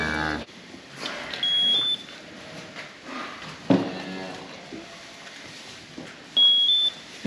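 Cattle moo in a farm shed during calving season, a few drawn-out lowing calls at moderate distance over a steady background hum, broken by occasional thin electronic beeps and shuffling.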